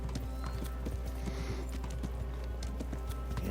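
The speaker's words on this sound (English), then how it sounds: "Sure wish Han's horse was faster" Horse hooves clip-clop in a steady walking rhythm inside a video game, with a snort or whinny in places and a constant low game drone underneath.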